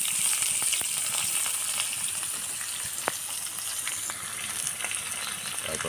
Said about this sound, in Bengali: আমগুলো প্রথমে তেলের মধ্যে কষে নিতে হবে